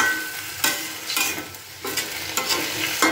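Malabar spinach stems and vegetables are stirred in a cooking pan, a spatula scraping in several soft, separate strokes over a faint sizzle, close and fairly quiet with no talking.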